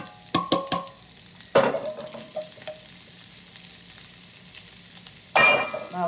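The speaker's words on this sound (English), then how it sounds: "Now we're gonna add our shrimps, our marinated shrimps." Marinated shrimp sizzle in a hot pan of olive oil, a loud close frying hiss that bursts in as they hit the pan, settles into a steady crackle, then flares again with stirring and utensil clatter.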